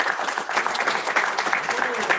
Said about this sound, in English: How about a round of applause for Lou?